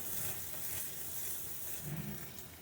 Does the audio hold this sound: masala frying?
yes